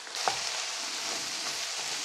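Straight-to-wok Amoy noodles stir-frying in a wok for pork and vegetable chow mein, giving a steady close broadband sizzle with a soft stir or toss near the start and no talk.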